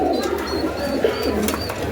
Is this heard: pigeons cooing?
yes